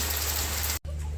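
Rain pours steadily outdoors where a dinner setup stands soaked, a dense even hiss that breaks for an instant before resuming just as strongly.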